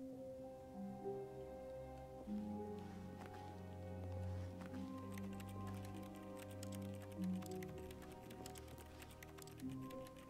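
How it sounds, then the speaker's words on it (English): Computer keyboard keys pressed rapidly during a PC game session, a quiet, busy clatter of taps running under game music and ambient tones. "I'm spamming keys on the keyboard here."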